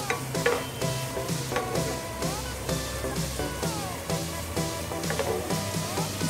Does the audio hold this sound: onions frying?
yes